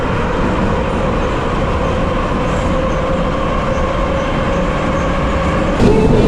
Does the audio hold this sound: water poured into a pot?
no